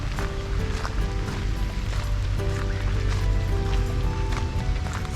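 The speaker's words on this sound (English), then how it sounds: "Maybe you can tell how hard it's raining now by looking at the pond." Heavy rain pours onto a pond in Skagway, Alaska, a steady, dense wash of patter and splashing that holds evenly throughout with no break.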